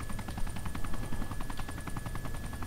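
A helicopter flies close by in Arma 2, its rotor making a steady, rapid chopping pulse over a continuous engine drone for the whole stretch, with no talking.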